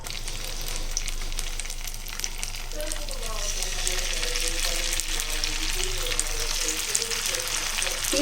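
Fish pieces frying in hot oil in a pan over a medium flame, a steady close sizzle with crackles and a few stirring scrapes, while a person talks over it.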